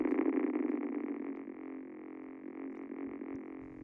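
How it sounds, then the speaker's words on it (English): A harsh, gritty neuro bass synth drone with bipolar distortion, made in FL Studio 20, buzzes steadily, loud at first and then settling into a slightly quieter sustained growl. "Let's go for some more bipolar distortion here."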